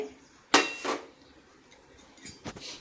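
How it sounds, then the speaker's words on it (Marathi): Dry makhana (fox nuts) stirred in a kadhai over a low flame, giving a sharp scrape and clatter followed by a softer rattle. Lighter scraping bursts come near the end, close and fairly loud, with no talk. "बघा, सतत हलवत असं चांगले कुरकुरीत होईपर्यंत भाजून घ्यायचे।"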